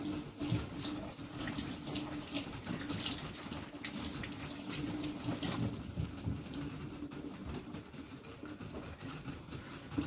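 Tap water runs steadily into a sink as fresh okra is rinsed under it, a close, continuous splashing rush with slight shifts as the pods are handled.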